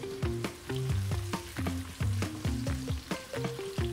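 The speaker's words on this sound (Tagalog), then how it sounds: "Iba talaga pag nagigisa ka. Yan, sibuyas." Onions sauté in hot cooking oil with a crackling sizzle, broken by a regular, rhythmic clatter of stirring, each stroke close and distinct against the frying.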